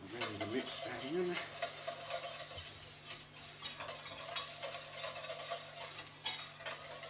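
A spoon stirs salt and pepper into beef Casanova sauce in a pan while it sizzles steadily. The scraping stir sounds close, over continuous frying hiss with light clinks of utensil on cookware.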